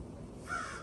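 A single crow caws once, sharp and fairly loud, over a steady outdoor background hum at a Lion Scout meeting.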